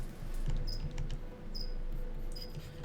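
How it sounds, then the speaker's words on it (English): Crickets chirp loudly in short, repeated high trills against a low background hum, with no voices present. "Crickets, why are you so noisy?"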